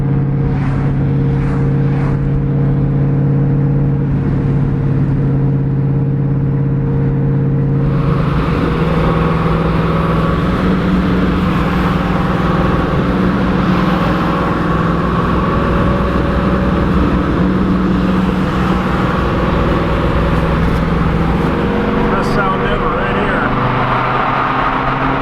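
A WS6 car cruises along Highway 61 by the lake, its engine drone and road noise steady and loud throughout, with the pitch of the engine shifting partway through.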